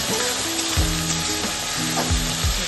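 Chicken fries in a pan with a steady, close sizzle, and occasional stirring scrapes cut through the continuous hiss.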